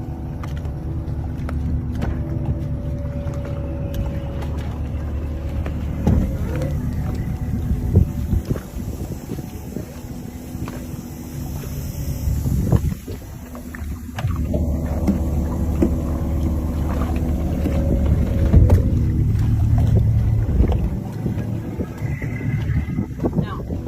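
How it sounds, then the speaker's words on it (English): A yacht running under power through water, with a steady low engine and hull rumble and rushing water, wind buffeting throughout, and occasional louder surges and splashes. "that's how we're going to fly this yacht"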